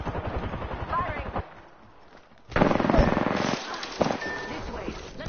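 Bursts of automatic gunfire in a squad-based battle royale shooter, Apex Legends, crackling in rapid volleys, dropping out briefly, then returning louder and sharper, with in-game voice callouts mixed under the shots.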